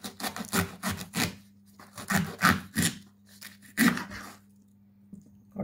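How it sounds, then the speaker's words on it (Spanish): A knife cuts through the tough stem of an artichoke, giving a few close, dry rasping strokes in short bursts, with brief pauses between them. "Cortamos un trozo de rabo."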